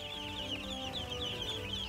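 Young ducklings on a farm peep and chirp in a busy, continuous chorus, close by and steady throughout without any talking.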